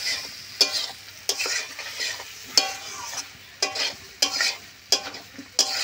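Soybean chunks and potato being stirred with spices in a pan, a spatula scraping in regular strokes about every two-thirds of a second over a light sizzle, close and clear.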